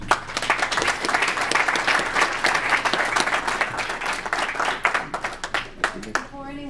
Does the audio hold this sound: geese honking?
no